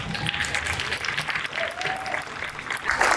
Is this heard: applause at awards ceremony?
yes